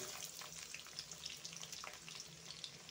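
Garlic and onion fry in the oil left from frying chicken pieces, giving a faint but continuous bubbling sizzle with soft crackles throughout.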